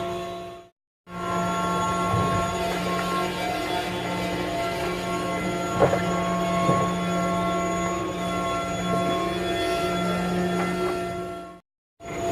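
A train rolls past at a railroad crossing, its steady rumble and whining wheel squeal running continuously with occasional louder clanks, the sound close and unbroken, with no talk.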